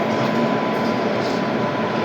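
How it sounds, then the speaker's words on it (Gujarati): Broadband rail rumble rolls on steadily and loud, as trains hauled by WAG-9 and WAG-4 electric locomotives run side by side in parallel. "અહીંયા ભાઈ વેગ 9 લોકોમોટિવ અને વેગ 4 લોકોમોટિવ પેરેલલ રેસના ભાઈ"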